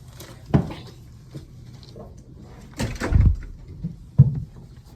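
A door shuts in a school room set up as a mock courtroom, with a couple of solid thuds and knocks, moderately near, amid quiet room noise and no talk.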